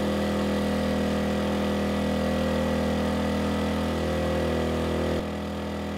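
An Erayak 4500P inverter generator runs under a 3000-watt load, giving a steady, close engine drone with a constant hum that drops slightly near the end.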